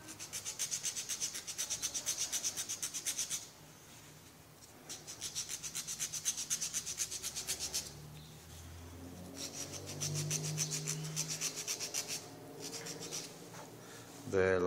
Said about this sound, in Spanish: Aquí hay que darle una buena lijada